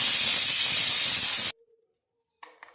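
Steam hisses loudly and harshly from a kitchen pressure cooker for about a second and a half, then cuts off abruptly into silence before a few faint clatters.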